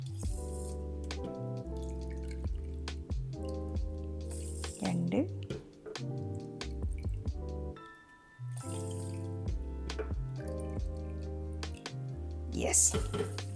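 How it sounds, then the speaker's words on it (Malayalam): Four cups of water are poured over two cups of rice in an electric pressure cooker, splashing and trickling near and clear, with a voice talking over the pouring. "4 കപ്പ് വെള്ളം കൂടെ ചേർത്തു."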